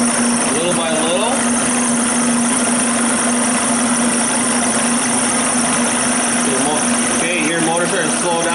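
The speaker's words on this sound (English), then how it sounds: "We'll turn it in, so you hear the motor start cutting out" An SV motorcycle engine idles steadily with a constant hum while the idle mixture screw is adjusted, and someone talks over it.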